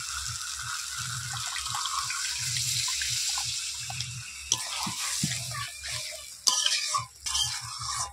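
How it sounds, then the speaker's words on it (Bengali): Water is poured into a pan of potatoes and jackfruit fried with spices, a steady splashing close by, over a soft rhythmic hum, then a few clatters near the end. "মশলার সঙ্গে আলু আর এঁচোড় ভালোভাবে কষিয়ে নিয়েছি। এবার জল দেবো।"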